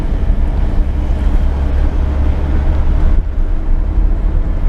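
Wind roars through an open car window while driving through mountainous Burundi, a loud, steady low buffeting rush with a brief dip near the end and no voices.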